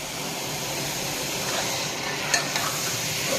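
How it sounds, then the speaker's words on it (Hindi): Chicken fries in a pan for white korma, giving a continuous, even sizzle throughout, with a couple of brief utensil taps near the end. "अब ये चिकन जब तक फ्राई हो रही है, अब ये चिकन भी फ्राई हो रही है"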